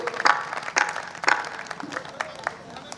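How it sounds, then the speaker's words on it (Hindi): Audience applause at a Hindi poetry gathering during a Navratri Durga festival, a few loud bursts of clapping rising and fading over a murmuring crowd, with a voice speaking at moments. "एक बार अरविंद भैया के सम्मान में जोरदार तालियां उठनी चाहिए"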